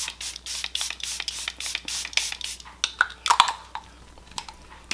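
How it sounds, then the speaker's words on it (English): Repeated short hissing bursts of a Charlotte Tilbury Airbrush Flawless setting spray being misted onto a made-up face, close and moderately loud, with soft handling clicks between sprays and no talking. "I am gonna spray with my lash setting spray"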